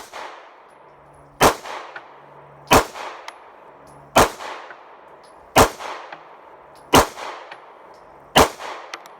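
Six loud, sharp 9mm pistol shots from a Smith and Wesson SD9VE or Shield fitted with an Apex trigger, fired one-handed at a steady pace about every one and a half seconds, each crack followed by a short ringing decay.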